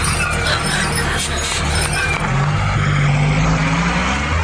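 A truck pulls away on a road, its engine droning loud and steady with a low rumble that rises in pitch as it accelerates, the vehicle noise filling the whole stretch with no talk over it.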